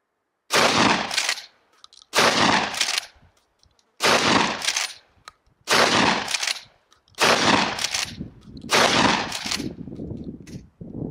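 Six loud shotgun blasts fired at a target in a steady rhythm about every one and a half seconds, each a sharp, full-band crack with a short trailing decay, and no voices.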